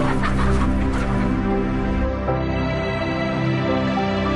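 Crowded caged hens cluck and squawk continuously, a dense, loud chorus of overlapping fowl calls that thins slightly toward the end.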